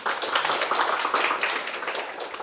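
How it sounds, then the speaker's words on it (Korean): A lecture audience at an international studies forum at Keimyung University claps together in a short burst, dense, many hands at once, fading slightly by the end. "우리 박수 한번"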